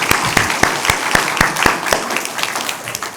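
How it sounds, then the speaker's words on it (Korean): Church congregation applause, opening with several distinct, rhythmic claps near the microphone that soon blend into a busier, softer patter of many hands. "우리 박수로 우리 여성분들 향해서 축복합시다."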